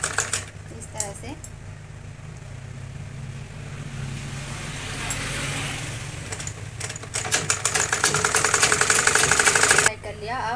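A sewing machine stitches the lining seams of a beaded blouse in a busy, rattling run that grows louder and denser toward the end, then cuts off abruptly just before the close.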